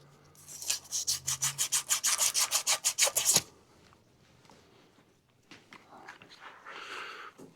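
Engine crankshaft on a Briggs & Stratton small engine being sanded by hand with sandpaper, about fifteen quick rhythmic scraping strokes close up, then quieter handling noises.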